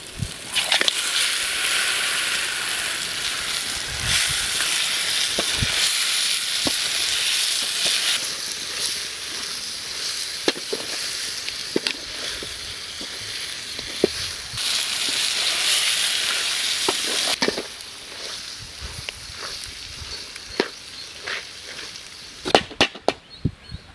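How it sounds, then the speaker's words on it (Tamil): Rabbit meat sizzles and fries steadily in a pan with masala while a utensil scrapes and knocks against it in irregular stirring strokes, close up, with no talking. "கறி வந்து மசாலாவோட நல்லா வந்து ரெண்டு நிமிஷம் கிளறியாச்சு"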